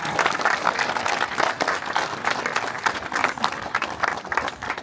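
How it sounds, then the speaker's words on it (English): An outdoor crowd at Mount Rushmore applauds a hoop dance performer, dense continuous clapping with uneven bursts, moderately close and sustained throughout. "Let's go ahead and give her one more round of applause for Delacino Chief Eagle and her plan."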